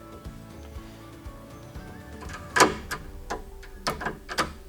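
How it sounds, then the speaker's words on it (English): A precision rifle bolt is worked and closed smoothly on a go gauge, giving a few crisp metallic clicks and clacks, the loudest midway, followed by lighter taps, close-up with no talking. "So this should close the bolt just fine"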